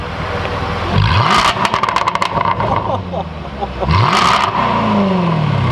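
A car engine revs up loudly in a few bursts, roaring and dropping back, with some background noise around it.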